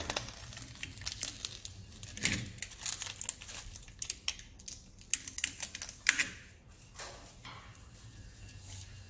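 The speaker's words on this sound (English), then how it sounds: "Strip off your paper." Paper backing being peeled off while fitting a cable gland, a series of close, faint crinkling and crackling rustles in irregular bursts, with no talk.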